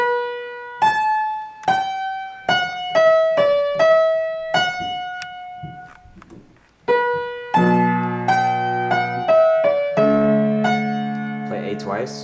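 Piano notes from a song played in a descending pattern, then fuller chords with a deeper left hand joining in, clear and close with no talking.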